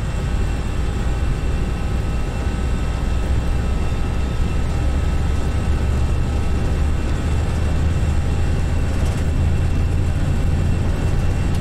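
Twin-engine Airbus A321 jets spooled up to takeoff thrust in the Prepar3D flight simulator at Dallas runway: a loud, steady, unbroken roar with a deep low rumble and a constant tonal whine above it.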